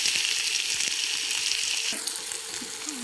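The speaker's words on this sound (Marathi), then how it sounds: "छान तडका यात आपण टाकून घेणार आहोत कांदा" Onion dropped into a hot tadka of mustard seeds, cumin and fennel, giving a dense, loud hiss of frying with faint crackles, steady throughout.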